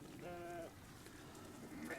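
Bottle lambs on a farm bleat once, a clear, fairly close wavering cry near the start, with a second shorter bleat beginning at the very end over a quiet outdoor background.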